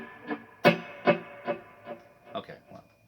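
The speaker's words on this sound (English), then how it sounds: "Way too much delay." Guitar notes plucked a few times, each trailing into echoing repeats that fade away, the delay heavy enough to smear the notes together.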